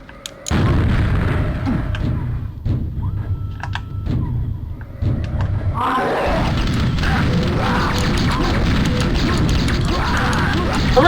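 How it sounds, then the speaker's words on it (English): A rocket jump in the first-person game Aftershock: a loud sustained roar of blast and rumble at close range, with sharp mechanical clicks early on and a second heavy burst of debris-like crackle partway through. "Hooray for rocket jumping!"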